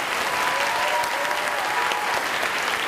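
A crowd gathered for a fitness room dedication claps for a step team, a continuous, even wash of applause from many hands at moderate volume, with no voices standing out.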